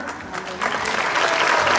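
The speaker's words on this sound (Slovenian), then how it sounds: "pričakujem en res bučen in pa velik aplavz za naša dva gosta" An audience at a brass band concert of folk music at Bled breaks into applause, close and loud, growing fuller and more sustained as it goes on.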